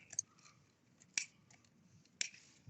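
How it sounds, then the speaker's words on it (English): Garden scissors snip string bean pods in a vegetable garden: three sharp, quiet clicks spaced about a second apart over a soft, near-silent background. "the scissors is ideal for this one, as you can cut it"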